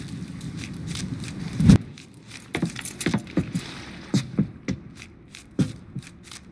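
Truck keys jangle in a few short metallic bursts in Mafia 3, with a louder clink early on followed by scattered lighter rattles and shuffling.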